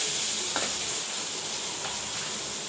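Chana dal, chopped vegetables and green chilies sauté in a pan with a close, steady sizzle and hiss, broken by a couple of light stirring scrapes, with no speech.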